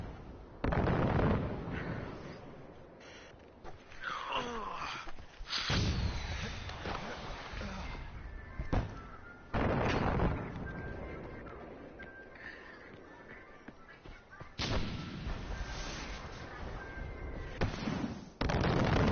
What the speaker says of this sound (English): mortar shots, but they don't actually know where I am.